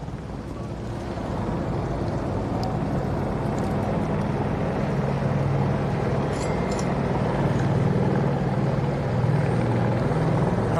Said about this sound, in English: Helicopters are drowning out.